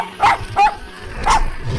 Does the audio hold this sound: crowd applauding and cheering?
no